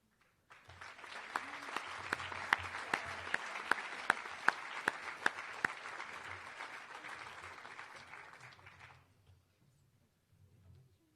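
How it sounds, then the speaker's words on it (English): Audience applause at a school awards ceremony honoring six-year students, a steady wash of clapping lasting about eight seconds with a few sharp louder claps standing out near the start before it fades out, then a faint brief patter. "One more round of applause."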